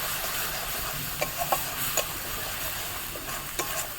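Kashmiri chili powder and dry chili powder fry in hot oil as a spice mix for katla fish kalia, a dense close sizzle broken by several quick scraping stirs.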